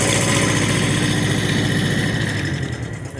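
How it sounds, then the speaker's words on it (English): A Kubota tractor engine idles nearby with a steady, loud low rumble and vibrating chug that eases down slightly at the end, heard alone without talk. "Idle it down, and we're going to see what we got."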